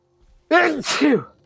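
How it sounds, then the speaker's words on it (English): A single person sneezes close up, a short sharp intake of breath breaking into a loud two-part burst against an otherwise quiet background. "Oh, I got a sneeze coming on."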